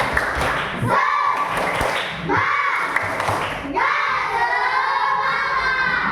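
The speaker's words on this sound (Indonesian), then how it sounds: "coba tepuk semangat" A school class performs a rhythmic spirit clap, bursts of group clapping and stomping thuds with children's chanting voices rising and falling in repeated patterns, loud and close.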